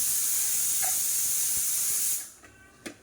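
A kitchen pressure cooker whistles, releasing a loud, steady hiss of steam for about two seconds before it cuts off abruptly, followed by a few faint clinks.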